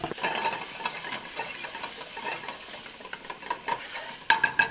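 Sliced onion and potatoes sauté in a pan with a steady, moderate sizzle and soft scraping from stirring, ending in a few sharper utensil clicks against the pan.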